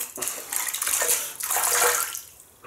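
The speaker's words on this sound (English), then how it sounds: "Rinse the hands." Water runs steadily from a tap as hands are rinsed under it, a close, loud, continuous splashing rush that swells and dips briefly, with no talking.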